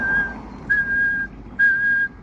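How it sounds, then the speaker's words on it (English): A person whistles train-signal blasts: three sustained, steady tones, each about half a second long, evenly spaced and fairly clear against a quiet background. No one talks. "it's like this weird train whistle code built into that song"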